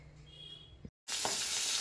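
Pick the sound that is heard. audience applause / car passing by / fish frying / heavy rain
fish frying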